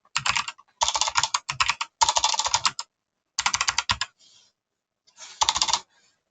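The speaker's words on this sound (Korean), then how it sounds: "제 키보드 소리가 되게 큰가요?" Rapid clacking of fingers typing on a computer keyboard, in several bursts with short pauses between them, close and crisp.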